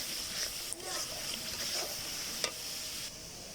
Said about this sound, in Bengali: মাছগুলো আমি এখন ভেজে নিয়েছি আর মশলাগুলো কষিয়ে নিচ্ছি